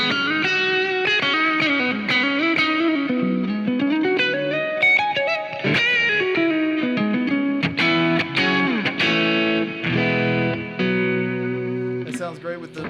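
Electric guitar with a driven tone through a Sir SL68 amplifier, fluid overdriven lead lines with bends and slides mixed with chordal stabs, loud and sustained, played close with no pauses.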